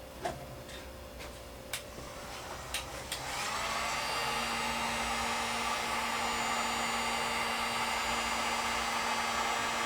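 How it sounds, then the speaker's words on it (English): A heat gun roars on with a steady, loud blowing whine after a few ticking clicks, aimed at hot glue on an epoxy-filled circular table, continuing evenly to the end. "So I'll try the heat gun again."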